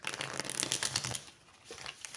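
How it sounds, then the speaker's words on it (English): Tarot cards being shuffled back into a deck give a dense, rapid crackle of riffling card edges for about a second, then fade into quieter, sparse rustling. "I'm going to shuffle them back into the deck."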